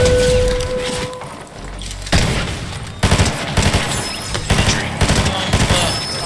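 Distant bursts of gunfire crackle in Fortnite, clustered volleys in the second half of the clip over a busy game soundscape, with a voice talking briefly.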